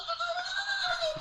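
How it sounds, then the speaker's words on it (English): A goat gives a single sustained, strained scream, a wavering high-pitched bleat lasting about a second, moderately loud and alone. "That sounds like a video of one of those screaming goats or something like that."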